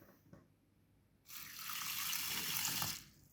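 Fishing pellets for a banjo feeder being submerged as water pours over them, a close, steady gush lasting under two seconds that then stops.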